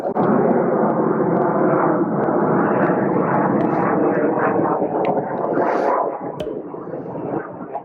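Aircraft roaring overhead in the flight path of a Utah air base, a loud, steady broadband jet rumble that fills the whole clip and eases slightly near the end.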